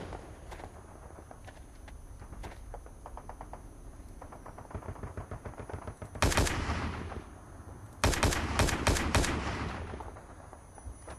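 Rapid automatic gunfire from the video game WAR Inc. Battlezone, with distant rattling bursts early on, then two loud, dense volleys near the end.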